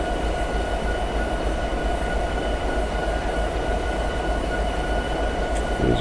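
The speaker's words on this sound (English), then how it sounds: "I suppose we have this entire length here to try to stop" A diesel train in the Train Simulator 2017 video game rumbles steadily and loudly throughout, with a continuous low engine drone and rail noise and no talking.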